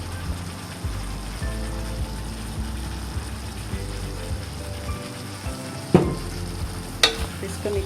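Kung Pao chicken fries with a splash of sesame oil in a pan, a steady close sizzle under the stirring, with two sharp utensil knocks against the pan near the end.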